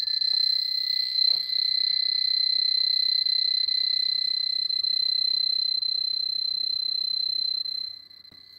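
Geiger counter buzzing steadily and loudly as it measures a piece of pitchblende uranium ore, a continuous dense crackle that holds for most of the clip before dropping off near the end.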